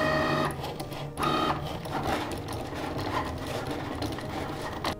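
A Cricut cutting machine slices material for a customized tote bag, its motor whirring with stepped mechanical tones. A short pause breaks the sound, then a continuous buzzing, rasping cut follows, quiet and close.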